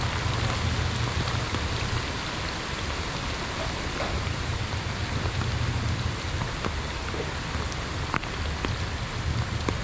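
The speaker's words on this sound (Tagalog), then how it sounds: "ayan na naman ang ulan grabe oh" Heavy rain pours steadily over a pond area, a dense, continuous hiss with occasional sharper drop impacts, unbroken and close throughout.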